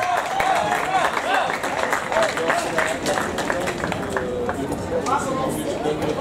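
Crowd applause for the winner on the podium at a 10 km road race awards ceremony, sustained clapping mixed with loud announcer talk and crowd chatter.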